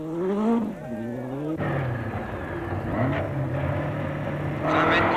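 Renault 5 Turbo rally car driven by Jean Ragnotti, its engine revving up and down through gear changes with rising and falling whine, close and loud, under a voice talking.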